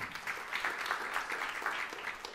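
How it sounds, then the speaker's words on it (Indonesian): Congregation clapping in a church service, a steady wash of applause sustained at moderate loudness throughout, with no voices over it. "Tepuk tangan yang meriah untuk kemuliaan nama Tuhan."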